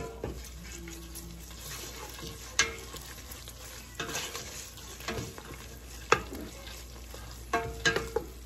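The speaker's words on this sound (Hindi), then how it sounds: "अब मैं इसमें 1 टीस्पून लहसुन अदरक का पेस्ट डाल रही हूँ।" Garlic ginger paste goes into onions frying in a pan for Delhi-style palak aloo gosht, giving a steady sizzle with stirring scrapes and a few sharp clinks, without talk.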